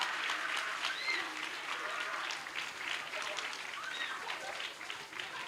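A church congregation claps and cheers in sustained applause, a dense wash of hand claps with voices calling out amid the crowd.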